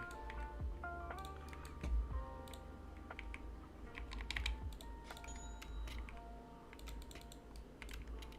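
Rapid, continuous typing on a computer keyboard, a steady patter of close key clicks with a faint background hum and no talking.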